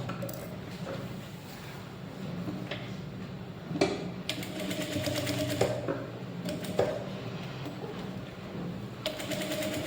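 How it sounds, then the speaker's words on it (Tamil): A sewing machine stitches a blouse back-neck panel, running in a steady continuous whir for the whole stretch with a few brief sharper clicks and pauses, close and moderately loud. "இப்போ தைக்க ஆரம்பிப்போம்."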